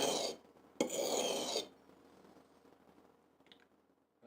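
A steel punch is rubbed across a sharpening stone in two short rasping strokes, close and fairly quiet, followed by near silence and a tiny click.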